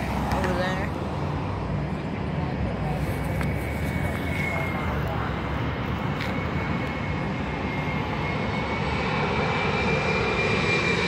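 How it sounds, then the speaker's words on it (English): A landing airliner's engines roar in a steady, loud drone heard from an airport, with faint traffic-like rumble underneath, continuous for the whole stretch. "There's the plane that landed over there."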